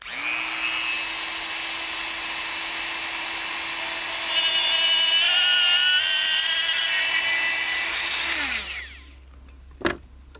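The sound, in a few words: Dremel tool with 1/16 inch bit drilling through wooden piece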